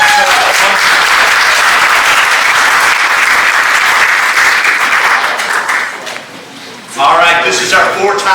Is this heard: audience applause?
yes